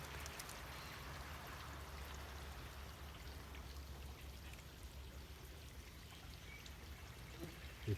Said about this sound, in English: We built a stream here several years back, which you can hear running.